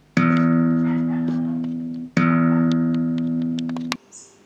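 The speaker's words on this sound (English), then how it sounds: "I am just going to record some acoustic guitar with the stock standard microphone" Acoustic guitar strummed through a stock Behringer ECM8000 measurement microphone, two full ringing chords that sustain and decay, followed by a brief pluck, close and clear with no voices.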